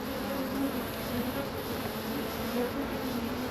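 Honey bees swarm and buzz around an open hive, a steady dense drone with a high whine, close and continuous with no talking.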